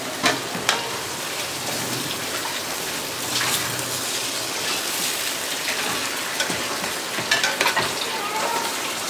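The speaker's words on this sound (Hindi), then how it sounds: "अब हमने इसको मिक्स कर देना। देखें ऐसे ये, ताकि मसाला सब अच्छी तरह मिल जाए।" Biryani masala being mixed through in a pot during dum cooking, a steady broadband sizzling hiss with scattered scraping stir strokes and a few sharper clinks, moderately loud and continuous without talk.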